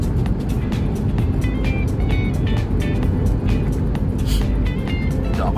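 Dense road traffic rumbling through a tunnel in the Philippines, a constant loud low roar with repeated sharp rattles and knocks from passing vehicles, close and enclosed, with no talk.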